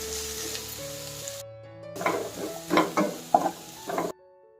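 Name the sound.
stirring ivy gourd and egg stir-fry with chili powder in pan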